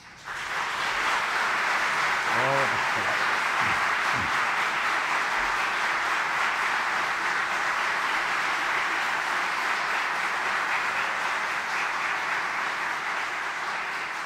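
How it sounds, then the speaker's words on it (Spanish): Audience applause at a swearing-in ceremony for new lawyers before a Supreme Court, a steady dense wash of clapping that holds for the whole stretch, with a faint voice-like tone early on. "El público, por su parte, les puede brindar un merecido aplauso."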